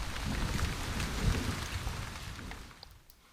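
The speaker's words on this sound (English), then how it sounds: "In May, the rains came" Rain hisses steadily on the jungle level of the video game Trespasser, with low rumbles of thunder under the downpour that fade and thin out toward the end.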